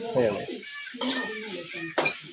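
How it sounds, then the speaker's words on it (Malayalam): Ginger and garlic fry in a pan for masala bonda filling, giving a soft sizzle broken by a few sharp utensil scrapes and clinks, with voices talking nearby. "ഇഞ്ചിയും വെളുത്തുള്ളിയും കൂടി മൂപ്പിക്കുകയാണ്"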